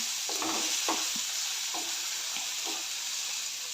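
A spoon scrapes and stirs turmeric into onion and tomato frying for an okra dish, giving a few soft rhythmic strokes over a steady, close sizzle.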